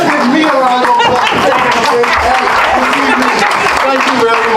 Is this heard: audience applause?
yes